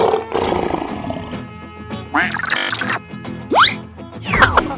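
A lion roar from a playful animal-transformation cartoon: deep roaring mixed with whooshing, swooping effects and short bursts, loud and close.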